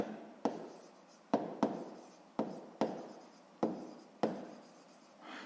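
Handwriting on paper while noting a maths exercise, a series of about eight close, distinct pen strokes scratching in short bursts with brief pauses between them.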